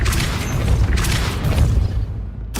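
A loud Depulso spell effect from Hogwarts Legacy, two heavy whooshing booms in quick succession followed by a third burst, punchy and close with no talk.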